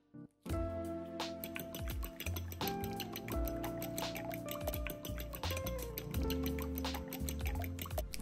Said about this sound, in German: Dafür nehme ich eine Schüssel, schlage 4 Eier auf und rühre diese gut um.